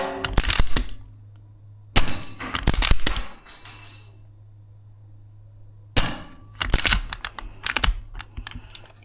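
A VFC URGI V3 gas blowback airsoft rifle fires in short bursts of sharp, snappy cracks, with clusters of rapid shots separated by pauses of near quiet, close and loud.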